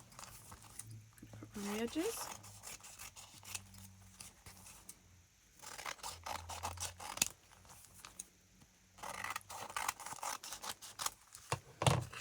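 Scissors snipping around the edges of paper in a woodland autumn papercraft design, a run of close, scratchy cuts in bursts with brief pauses, heard alongside someone talking.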